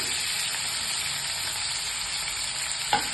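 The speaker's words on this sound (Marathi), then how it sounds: "आणि ह्याला छान परतून घ्यायचं" Tomato and kokum sautéing in a pan for a whole moong gravy, a steady close sizzle throughout, with a single soft clink of stirring near the end.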